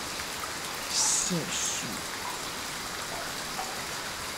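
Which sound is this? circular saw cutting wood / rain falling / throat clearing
rain falling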